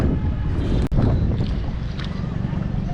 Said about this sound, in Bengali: পিছনে একটি বড় জাহাজ আসতেছে বালুর